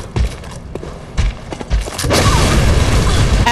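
Leap attack landing in Bloodborne, several heavy thuds and crashing impacts followed by a loud, sustained rumbling smash near the end, close and forceful.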